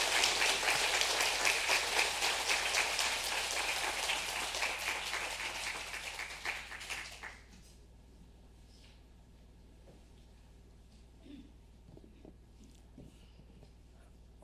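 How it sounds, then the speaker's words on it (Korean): A church congregation claps in welcome during a Sunday worship service, sustained applause filling the room for about seven seconds before fading to quiet room ambience. "환영의 박수 함께 해주시겠습니다"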